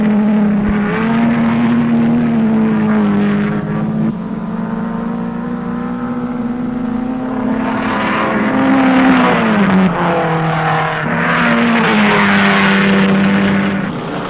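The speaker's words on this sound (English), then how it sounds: "A Jaguar wearing the white and blue stripes that are American racing colors leads a pack of cars through the hairpin." Racing cars at the 1957 Sebring 12 Hours, a Jaguar leading a pack through the hairpin, loud engines droning and revving with rising and falling pitch as several cars pass in turn.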